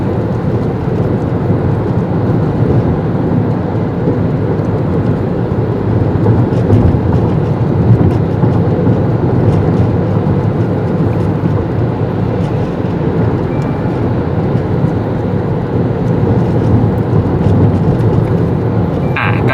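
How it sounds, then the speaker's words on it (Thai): Steady road and tire rumble inside a car cabin at 90 km/h on Maxxis Pro R1 sports tires, a constant low broadband drone with no talking. "ตอนนี้วิ่งอยู่ที่ความเร็วประมาณ 90 กิโลเมตรต่อชั่วโมงนะครับ ได้ฟัง เสียงจากในห้องคนขับเนาะว่าเป็นยังไงเสียง"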